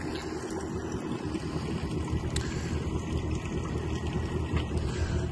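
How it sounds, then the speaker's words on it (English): The Mercury 300 outboard on a Parker 850 Voyager boat runs quietly under a continuous rush of wind and water, a steady low rumble with no talk. "The engine's running very quietly there, Mercury 300."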